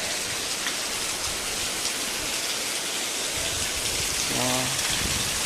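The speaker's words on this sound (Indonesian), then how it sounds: "waterfall" A waterfall pours as a dense, steady hiss of falling water close by, continuous and fairly loud, with a brief voice near the end over the rush.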